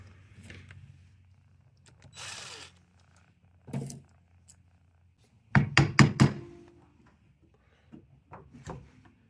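Close knocks and thunks as a cover is pried off a 1970 Honda CT90 engine, with a rustling scrape early on and a quick cluster of loud metallic taps near the middle.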